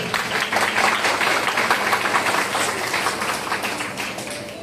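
An audience at a women's cluster cooperative society's annual general meeting bursts into applause, a dense, fairly close patter of clapping that peaks early and gradually thins out.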